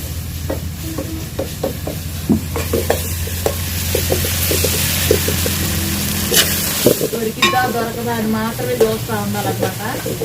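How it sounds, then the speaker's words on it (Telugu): Ginger-garlic paste sizzles in a pan with frying onions and green chillies, a steady hiss under repeated scraping stirs, with a faint voice and sharper clinks toward the end. "ఉల్లిపాయలు పచ్చిమిరపాయలు అయితే వేగిపోయినాయి ఇప్పుడు అల్లం అల్లం ఎల్లుల్లిపాయలు పేస్ట్ అయితే వేసేసుకున్నాను"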